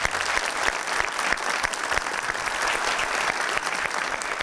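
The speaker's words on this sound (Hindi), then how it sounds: "इनके लिए तालियां।" Studio audience applause on a comedy talk show, a thick, continuous burst of many hands clapping at an even, fairly loud level throughout.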